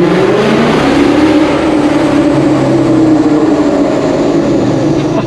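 A 1000-horsepower turbocharged car pulls hard in first gear, its loud, steady engine roar and whine sustained close by for several seconds with no talking.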